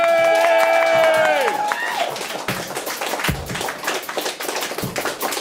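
An audience at a small club gig claps after a band's sustained ringing chord fades out, with scattered, uneven claps that build into loose applause.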